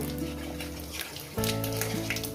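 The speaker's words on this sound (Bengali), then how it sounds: "পাঁচফোড়ন দিয়ে দিলাম কয়েক সেকেন্ড একটু নাড়াচাড়া করে নেব" Panch phoron spices crackle and sizzle in hot oil while being stirred for a Bengali chorchori, a steady frying hiss with a brief dip and then a louder burst of sizzle.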